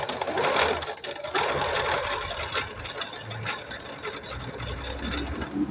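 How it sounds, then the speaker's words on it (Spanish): A Singer Advance sewing machine stitches a zigzag seam on fabric, its needle mechanism chattering in a fast, steady rhythm close up for the whole stretch. "Aquí se nos acabó la tela y nos formó la costura que seleccionamos"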